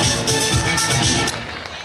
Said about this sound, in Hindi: तालियां बजाना कि हम उत्साह बढ़ाएं बच्चों का